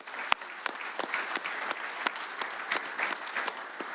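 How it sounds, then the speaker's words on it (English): A modest crowd of basketball fans claps at a women's team announcement, scattered hand claps with sharp individual slaps over a soft, fairly quiet bed of applause. "I'd like to give every one of you guys a round of applause."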